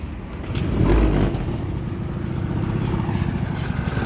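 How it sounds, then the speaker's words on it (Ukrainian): Honda Dio AF34 two-stroke scooter kick-started, a low engine burst catching near the one-second mark and settling into a steady, close idle with no talk over it. "Зараз перевіримо, як заводиться з кікстартера"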